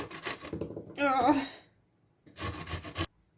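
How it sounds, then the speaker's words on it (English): An onion is rubbed against a grater in two quick bursts of rapid rasping strokes, separated by a short pause and a brief vocal sound. "the revenge of the onion is much greater when you grate them"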